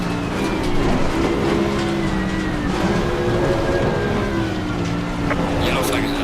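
Porsche race car engine in the sim racing game Assetto Corsa Competizione, a loud continuous high-revving drone with shifting pitch as the car is pushed hard, other cars audible nearby.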